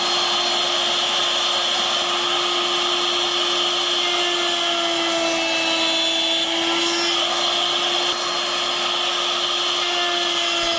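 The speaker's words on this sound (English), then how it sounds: "You can route safely to an inch or so in a half a minute." A handheld wood router cuts a mortise in wood with a steady, loud high-pitched whine that holds an even tone throughout, with no talk over it.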